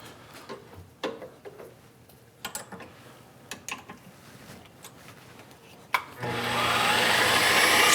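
A CNC machine engraving a pin spanner wrench with a single-flute 45-degree D-bit cutter (90-degree included angle). Scattered light clicks and taps give way to a loud, steady rushing whine that starts abruptly and holds to the end.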